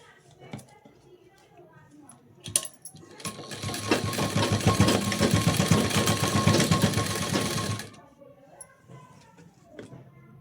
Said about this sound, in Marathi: आता आपण इथं फिटिंगची जी लाईन आहे ना यावरती शिलाई देऊन घेऊया.